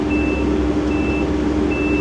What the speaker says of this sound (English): And who keeps beeping? Oh, it's the Mini X over there.